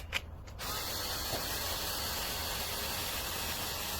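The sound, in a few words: cordless electric screwdriver spinning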